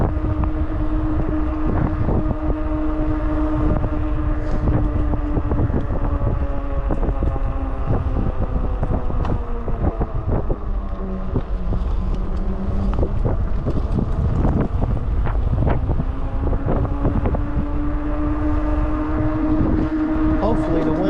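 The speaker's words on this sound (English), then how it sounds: "Hopefully the wind ain't too bad." Steady wind buffeting the microphone during a fast ride on a 72-volt electric bike along the St. Tammany Trace in Louisiana, a continuous loud rushing roar with a faint motor whine running underneath throughout.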